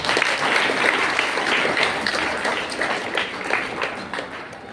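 Audience at a school felicitation event applauding for the teachers, a loud, sustained burst of many hands clapping that holds steady and only slightly tapers near the end.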